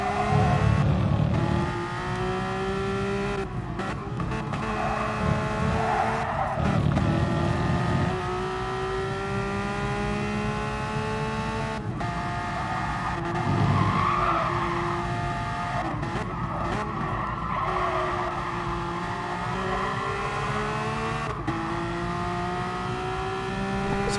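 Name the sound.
Porsche Supercup race cars at Brands Hatch Indy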